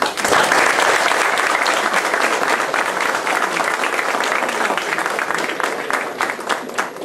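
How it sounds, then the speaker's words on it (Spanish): An audience applauds a speaker at an event in Arequipa, with dense, steady clapping that fills the whole stretch at close range and tapers slightly near the end. "Vamos a dar una primera aplauso a Pedro por esos gran consejos."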